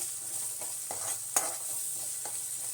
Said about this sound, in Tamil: ஸோ இதை வந்து நல்லா கிளறி விட்டுக்கலாம்.